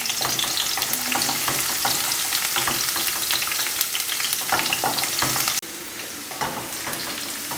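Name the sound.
garlic frying in oil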